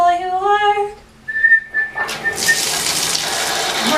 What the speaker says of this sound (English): we're filling up the bathtub so we'll have water when the power goes out